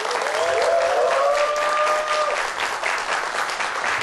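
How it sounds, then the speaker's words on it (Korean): Studio audience on a Korean TV talk show applauding as a guest, a young carpenter running a furniture company, walks on; dense, steady clapping fills the room throughout, with a few brief tonal music notes rising over it early on. "여러분들 큰 박수로 환영해 주시면 고맙겠습니다."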